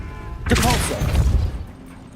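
A Depulso force spell impact in Hogwarts Legacy, a single sudden crashing thud that swells and fades over roughly a second.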